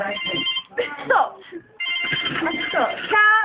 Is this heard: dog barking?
no